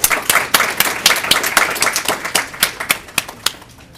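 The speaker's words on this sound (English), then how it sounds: "Please join me in giving her another round of applause." Enthusiastic applause from a talk audience, a steady wash of many hands clapping with sharper individual claps standing out, loud and close throughout.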